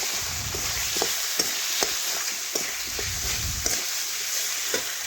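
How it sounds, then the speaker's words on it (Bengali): Potatoes frying in a spice masala over a clay stove, a bright continuous sizzle broken by regular scraping strokes of a spatula stirring the pan. "আমি কিন্তু আজকে মশলার সাথেই আমি দেখুন আলুগুলো একটু ভেজে নিলাম"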